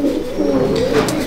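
A Malbai (Panjabi) pigeon coos in a loft, a close, loud, throaty rolling call that swells and continues through the short moment, with no talk.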